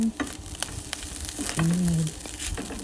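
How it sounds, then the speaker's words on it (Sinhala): A spoon stirs egg and sausages frying in oil in a pan, with continuous close sizzling and scraping and brief talk mixed in. "හොඳට හැඳි ගාමි."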